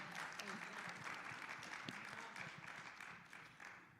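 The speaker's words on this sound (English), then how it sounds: "give our CEO a round of applause" Audience applause for a CEO at a Women's History Month forum: steady, fairly faint clapping from a crowd, continuous across the whole stretch with some background voices underneath.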